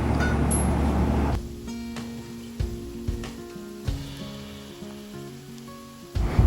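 Onions and chopped tomato sizzle steadily in a hot pan for a chicken curry, with a loud frying hiss, occasional clicks of stirring and no talking.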